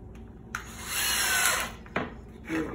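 A power drill driving 1 3/4 inch screws into wood for a target stand, a close whirring burst that rises and holds for about a second, followed by shorter spurts as the screw seats.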